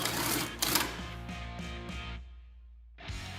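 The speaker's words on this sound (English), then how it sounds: "I usually like to use a long extension, and we're just going to go ahead and remove this bolt." A ratchet on a long extension works a bolt loose during a rack and pinion install on a Polaris RZR XP Turbo, giving quick mechanical clicking in a steady burst that stops, then resumes briefly after a short pause.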